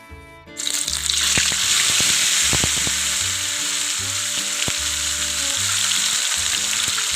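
Small fish half-fried in a pan for a tomato and mustard gravy, sizzling loudly and steadily from close by after a brief quiet start, with occasional stirring clinks.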